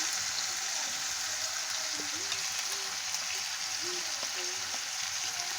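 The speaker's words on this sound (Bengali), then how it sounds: "কিছুক্ষণ নাড়াচাড়া দিয়ে আলু, ক্যাপসিকাম, গাজর দিয়ে দেবো।" Potato, capsicum and carrot stir-frying in a pan for vegetable chow mein, a soft, steady sizzle at moderate distance, with a voice speaking briefly over it.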